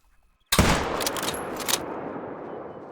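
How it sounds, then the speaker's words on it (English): A single loud hunting-rifle shot at a moose in the game theHunter: Call of the Wild, a sudden close blast followed by a long, rolling echo across mountain terrain. "Okay, we'll take a shot at him."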